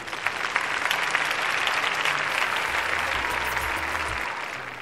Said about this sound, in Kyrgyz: Алдыңыздарда кол чабуулар.